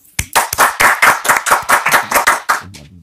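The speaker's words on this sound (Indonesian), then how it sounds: "tepuk tangan buat Kiai Haji Nur Ihya" An audience clapping in rhythm for Kiai Haji Nur Ihya at an Islamic gathering, about a dozen loud, close, evenly spaced collective claps, followed by a brief murmur as the claps stop.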